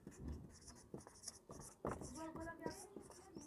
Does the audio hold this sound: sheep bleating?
no